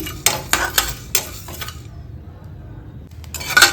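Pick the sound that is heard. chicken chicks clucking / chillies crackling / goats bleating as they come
chillies crackling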